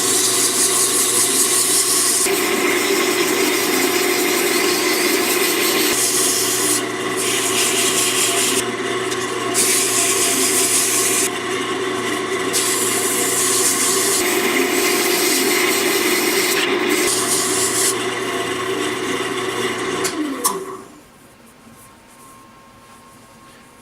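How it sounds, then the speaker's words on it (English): An antler cigar twist pen blank spins on a lathe at a slow 600 RPM while being sanded from 150 to 320 grit, giving a steady, loud whirring rub for about twenty seconds before it abruptly stops. "I'm going to turn this at a slow speed, 600 RPM, and sand from 150 to 320"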